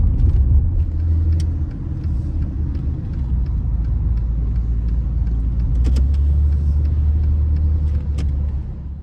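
A BMW E32 engine rumbles steadily at low idle while pulling over, a constant drone with light clicks and road noise throughout, no voices.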